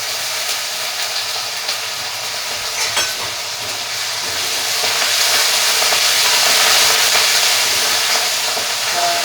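Drumstick leaves frying in hot oil with asafoetida for a potato curry, a steady broadband sizzle that swells louder in the second half, close and continuous with no talk.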